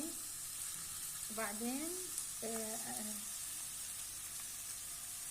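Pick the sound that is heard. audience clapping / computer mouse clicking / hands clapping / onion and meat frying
onion and meat frying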